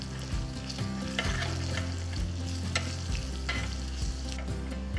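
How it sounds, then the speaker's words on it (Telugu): Curry leaves, chopped ginger, green chili, dried red chilies and asafoetida fry in hot oil for a tempering, giving a loud, steady sizzle with stirring scrapes throughout. "కొన్ని కరివేపాకులు వేసి వేయించాలి"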